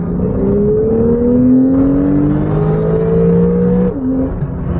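A 2017 Porsche 911 Carrera accelerates along a back road, its engine note climbing steadily in pitch through gears, loud and heard from inside, with a short dip near the end.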